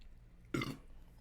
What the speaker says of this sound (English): Pop hasn't made me burp like that since Mountain Dew.